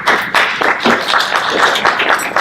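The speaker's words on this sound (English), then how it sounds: "Invocations don't usually engender applause, but I'm glad to hear that." Applause from a small audience at a councilman's swearing-in ceremony, following the invocation: steady, dense clapping that carries on evenly for a couple of seconds, with no voices over it.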